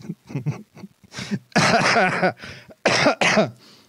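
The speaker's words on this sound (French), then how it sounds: "vous m'avez fait tousser" A person coughs several times in a fit of harsh, close bursts, with short breaths between them.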